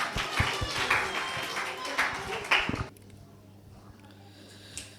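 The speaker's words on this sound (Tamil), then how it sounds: "கைத்தட்டி அவங்க வெல்கம் பண்ணிடலாம்." Brief burst of audience clapping at a church anniversary and Christmas celebration, mixed with a voice, then cutting off into quiet room tone.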